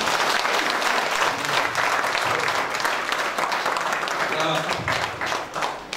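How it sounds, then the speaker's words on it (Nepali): Sustained applause from a church gathering audience in Bangalore, dense and steady clapping throughout that thins slightly near the end, with a voice faintly audible underneath. "ताली बजाएर हामी स्वागत गर्नेछौँ"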